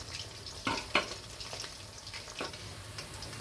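Tuna fish fries Chettinad style in masala oil over a medium flame, giving a low, steady sizzle. A few sharper spatters and scrapes stand out near the start.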